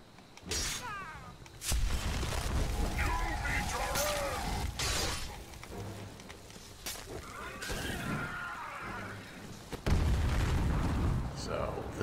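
Explosions and magic blasts from the video game Skyrim, modded, where a Daedra and a fire mage attack: several sudden loud bursts with shattering crackles and roaring tails, scattered across the fight amid other game effects.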